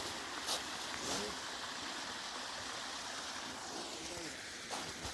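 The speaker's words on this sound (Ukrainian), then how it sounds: "Тут річка, потічок. Якісь водоспади втече." A small river stream tumbles over little waterfalls in Austria, a steady, dense rushing of water heard close and fairly loud, with faint voices and outdoor sounds mixed in.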